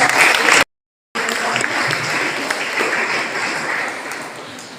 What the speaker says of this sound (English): I request everyone to give them a big round of applause